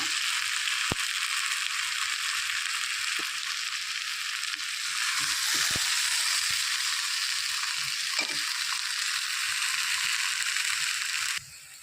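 Water poured onto well-fried spices in a pan for a katla fish curry with drumsticks and potato, giving a loud, steady sizzle with faint utensil clinks, alone and unbroken until it cuts off abruptly.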